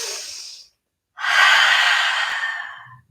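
A close, clear breath during a vinyasa yoga flow, with a short exhale, a brief pause, then a long, steady inhale, loud and alone with no talking.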